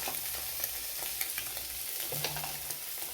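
Tomato dropped into onions frying in a pan, a steady close sizzle with light stirring scrapes running throughout, no voices.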